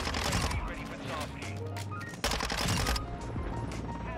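Rapid, dense bursts of Minibak submachine gun fire in Modern Warfare 2 gameplay, loud and near, with a brief gap midway before the shooting resumes, while a person talks over it.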